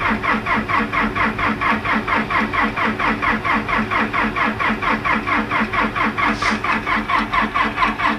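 An old John Deere engine powering an air compressor, started from cold, runs close and loud with a steady, rhythmic chugging pulse that holds throughout. No one speaks.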